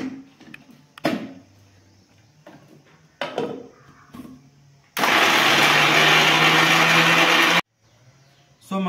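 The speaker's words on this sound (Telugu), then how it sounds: "మనం ఆల్రెడీ ఇక్కడ ఈ వెల్లుల్లి అనేటివి కొంచెం దబ్బలు దబ్బలుగా అంటే కచ్చాపచ్చాగా ఆడించుకోవడం జరిగింది" A kitchen mixer grinder coarsely grinds garlic for mango avakaya pickle, with a loud, steady whirring burst of nearly three seconds, preceded by scattered clinks and thumps and followed by a sudden stop.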